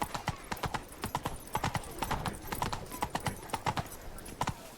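Hooves of a horse clip-clopping at a steady walking pace in The Witcher 3 video game, crisp, even beats close by, with no speech over them.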